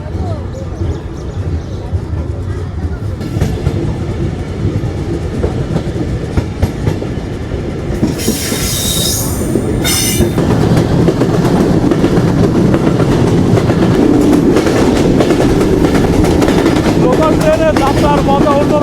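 A local passenger train runs at a Bangladeshi junction, its loud, continuous rattling rumble and clickety-clack growing heavier midway, with voices faintly present beneath the racket.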